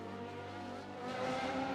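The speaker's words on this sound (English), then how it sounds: "They've spun their car." In the racing game F1 Manager 22, a Formula 1 car spins out, with a droning engine note joined by a swelling tire squeal toward the end of the short burst, fairly faint overall.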